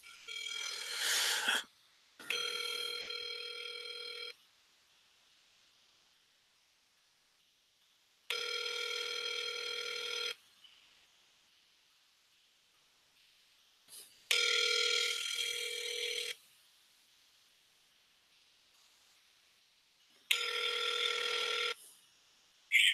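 An outgoing telephone call rings in the earpiece with four loud electronic ring bursts, each about two seconds long, separated by quiet gaps.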